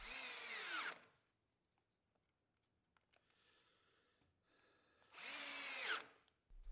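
Two short bursts of a power drill pre-drilling into wood while installing cabinets, each about a second long, separated by a quiet stretch with faint clicks and handling noise.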